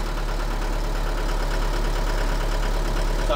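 A bulldozer's diesel engine idles with a steady, loud low rumble and even throb, close by and unbroken, with no voices.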